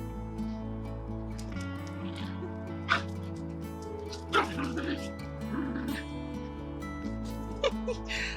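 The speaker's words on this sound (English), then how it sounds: "The dogs are just having so much fun." A few short dog yips and barks pop out now and then over a loud, steady droning hum, with playful whimpering sounds between them.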